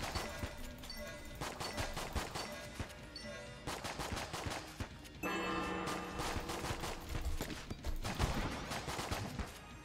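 Rapid gunfire from Enter the Gungeon, bursts of shots in quick succession with brief pauses, loud and busy over game music and effects.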